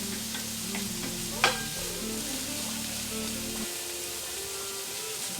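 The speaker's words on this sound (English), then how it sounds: "it's already sizzling" Red and yellow bell peppers and onions sizzle steadily in a hot pan while being sautéed, a constant close hiss with one brief clink of a utensil partway through and a low hum that drops out later.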